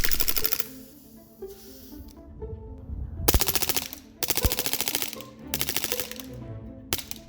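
A Taurus PT99 CO2 gas blowback airsoft pistol fires full auto in several rapid, crisp rattling bursts with short gaps between them, close and sharp, the gas hissing briefly between strings.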